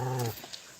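A dog, either an Australian Shepherd and Blue Heeler mix or another female dog, lets out a short, close, voiced growl-like whine that stops abruptly, leaving quiet room tone.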